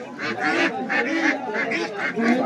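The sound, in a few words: domestic ducks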